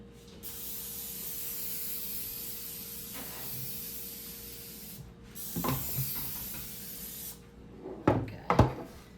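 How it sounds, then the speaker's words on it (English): A long steady hiss of an aerosol baking oil spray coating a brownie pan, briefly pausing, followed by a few clunks and knocks of the pan being handled. "You take your oil, your baking oil here, and spray your pan real good."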